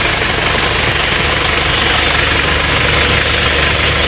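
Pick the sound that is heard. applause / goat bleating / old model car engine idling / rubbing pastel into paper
old model car engine idling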